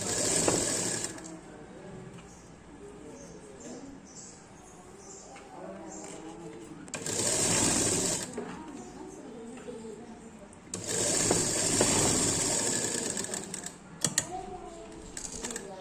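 A sewing machine stitches a patiala pant in bursts of rapid mechanical clatter, separated by quieter stretches. Someone talks over and between the runs.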